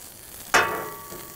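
Onions hit hot oil in a pan and burst into a sudden sizzle that hisses loudly and then settles into a softer, steady crackle. The sound is close and there is no talking.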